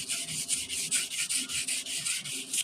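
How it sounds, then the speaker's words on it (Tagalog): Fine sandpaper rubs back and forth on a rusty electric fan shaft in quick, even strokes, a close hissing rasp repeating about five times a second. "pinong liha para sa shafting para mawala yung kalawang"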